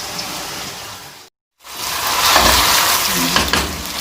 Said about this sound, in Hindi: चिकन भून रहा है, बहुत अच्छा सा कलर चेंज हो गया।